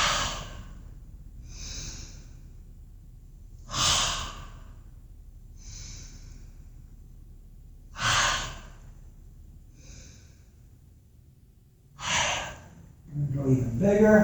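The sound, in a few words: loud exhale with a ha breath in yoga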